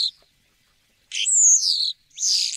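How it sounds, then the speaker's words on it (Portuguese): Starlings chirp in mid-morning quiet, a brief call followed by two longer bursts of shrill, warbling whistles, close and clear against near silence. "O silêncio a meio da manhã só é interrompido pelo chilrear dos estorninhos."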